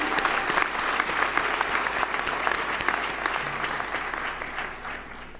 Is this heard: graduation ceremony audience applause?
yes